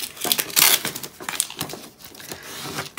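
A scraper pushes a vinyl decal and its transfer tape down in brisk, crinkly rubbing strokes, close and fairly quiet with no voices.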